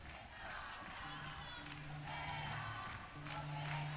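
An early crowd files into Carioca Arena 1 at the Olympic Park for women's wheelchair basketball, with a steady indoor murmur of chatter, scattered shouts and faint clapping, plus a low steady hum.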